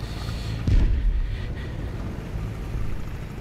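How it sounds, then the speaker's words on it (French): In War Thunder, an artillery shell strikes near an AB41 armoured car, a single heavy thump followed by a fading rumble over steady engine and ambient noise. "Un petit coup d'artillerie sur la tronche."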